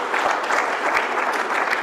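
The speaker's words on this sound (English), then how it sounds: "Please give me a round of applause." Dense, steady applause from a conference audience, a broad continuous wash of many hands clapping together with no pauses, fairly loud and sustained throughout.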